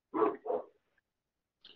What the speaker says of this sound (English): I wish that dog wasn't barking all the time.